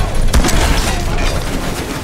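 Ship cannon broadsides boom in Battlewake, a VR naval combat game with an eldritch theme, a dense rumbling fusillade of overlapping blasts that keeps up loudly throughout.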